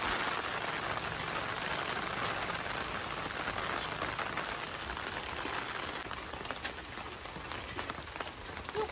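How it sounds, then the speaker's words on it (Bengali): Heavy rain pouring down all around, a dense steady patter and hiss lasting throughout, with faint sharper drips and no talk. "জোরে এসছে দেখো বৃষ্টিটা চারিদিকে।"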